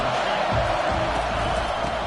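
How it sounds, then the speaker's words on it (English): The stadium crowd at a Nebraska at Oklahoma college football game roars in a dense, steady wall of noise that holds at a constant loudness throughout. "This crowd trying to make life miserable for this offense."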